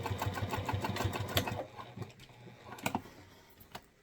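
Sewing machine stitching a handbag lining, with a fast steady needle chatter that slows, stops and restarts in a few short bursts, close up and alone.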